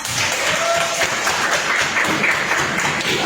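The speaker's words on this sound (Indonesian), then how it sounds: "Tepuk tangan dong buat kalian semua." Students in a classroom clap together, a brief burst of close, fairly loud applause from a group with a hint of voices mixed in.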